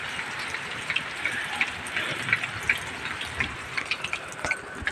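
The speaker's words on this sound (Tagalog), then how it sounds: "Ulan na guys." Rain falling steadily at a house roof-building site, a continuous soft hiss dotted with scattered drip taps, moderately loud and with no talking.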